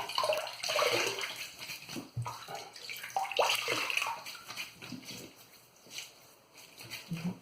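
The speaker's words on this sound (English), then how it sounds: "Let me wet my face a bit." Water runs steadily from a tap as a face is wetted before a wet shave, a continuous splashing stream with hand movements breaking it up, fairly close and moderately loud, no speech.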